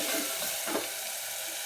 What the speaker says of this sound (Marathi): जे मसाला टाकले ते छान परतून घ्यायचे आपल्याला पहिले तेलात